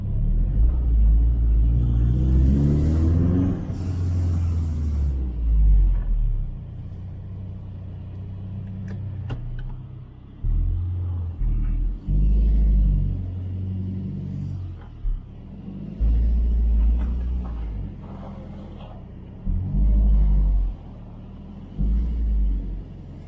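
A rear-wheel-drive SAAB 9-5 Aero, its engine rumbling deep and loud as it revs and pulls hard under boost in several surges separated by brief lifts, heard from close by with no talking.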